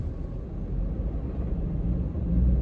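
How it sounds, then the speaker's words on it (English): A low, steady engine induction rumble and drone heard from inside a moving Honda NSX sports car, swelling slightly louder toward the end. "let you hear the induction noise"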